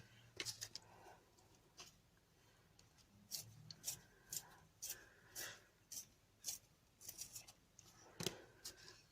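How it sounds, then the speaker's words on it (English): A pencil is turned in a pencil sharpener, giving a series of quiet, close, scratchy shaving bursts with short pauses between them. "this sharpener is really nice. It does kind of sharpen to a nice point."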